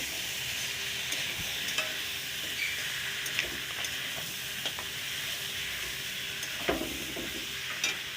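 A paste of rice and melon seeds is stirred in a hot pan, with a low steady sizzle under occasional light scraping and tapping from the spoon.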